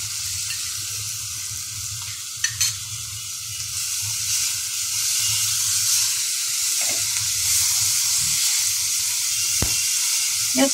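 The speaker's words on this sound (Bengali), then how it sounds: "একটু হালকা ভেজে নিব।" Beef samosa filling sizzles and fries steadily in a pan, a continuous crackling hiss with occasional stirring scrapes and clinks, close and moderately loud, no talking.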